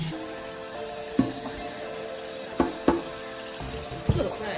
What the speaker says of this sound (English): Now he's about to wash out this pan